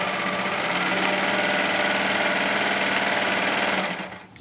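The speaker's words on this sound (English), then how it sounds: "I'm going to use my serger to finish off this seam" A serger runs steadily for about four seconds, finishing a cotton pillowcase seam with a dense, fast mechanical whir and rattle, close and loud, then winds down quickly at the end.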